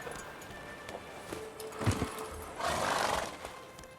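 A horse in The Witcher 3 video game gives a brief whinny amid soft clip-clop hooves and faint background game sounds, with no talking.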